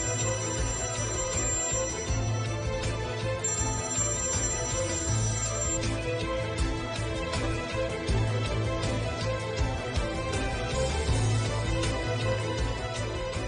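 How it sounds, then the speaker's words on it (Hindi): A telephone ringtone repeats steadily with a regular electronic pattern, loud and continuous, with no one talking. "फोन उठाओ देमिर, फोन उठाओ"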